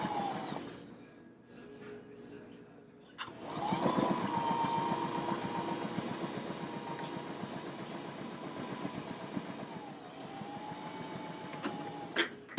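A sewing machine stitches a fabric face mask with a steady mechanical whir and rapid needle clatter, starting after a brief pause and running at close range, with a faint voice heard underneath.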